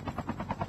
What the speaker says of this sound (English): they're destroying the helicopter